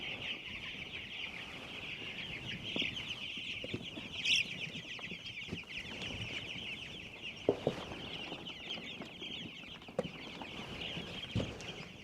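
Young chickens kept indoors cluck softly and steadily nearby, with occasional sharper calls and scratching noises over a constant high chirping background.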